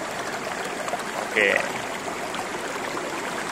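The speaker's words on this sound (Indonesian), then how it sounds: "Ini adalah aliran sungai atau Kali Lampir, Kali Terong, dan pertigaannya ada di sini nih" A river stream flows steadily at the junction of the Lampir and Terong rivers, a constant trickling wash, while a voice briefly speaks midway.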